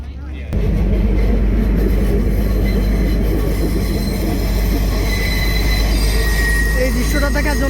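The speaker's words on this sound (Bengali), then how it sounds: "সম্ভবত এখানে একটা ট্রেন আসতেছে" A train rumbles past loudly and close as it approaches a tunnel, a heavy continuous roar of wheels on rails with metallic squeals rising toward the end.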